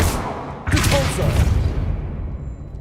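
A Depulso force spell is cast in Hogwarts Legacy, a loud, sudden whooshing blast that bursts in at once, holds for about a second and then slowly fades away.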